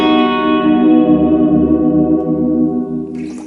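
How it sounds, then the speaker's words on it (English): A sustained electric guitar chord from a Line 6 Helix rings out through heavy spring reverb and wobbling modulation, loud and wet, decaying into a splashy tail. "So if you were looking for kind of dripping tones, then I think the Helix can now do those"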